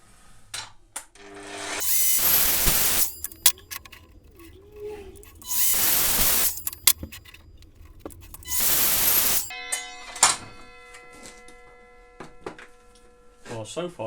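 A Ryobi power tool cutting a piece of a workshop tool holder frame, three loud sustained bursts of whining, buzzing noise separated by quieter gaps holding handling clicks and hum, close to the listener.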